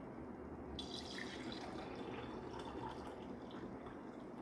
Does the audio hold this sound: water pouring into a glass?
yes